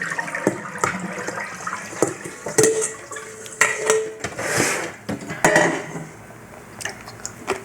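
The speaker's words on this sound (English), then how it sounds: "now I'm going to strain these" Pickles being strained and rinsed under running water, with clattering of a strainer and dishes, splashing bursts and faucet flow in a close kitchen, no talking.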